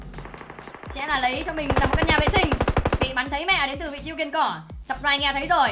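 Rapid automatic gunfire in PUBG Mobile, a dense burst of evenly spaced shots lasting about two seconds, with a commentator talking excitedly before and after it.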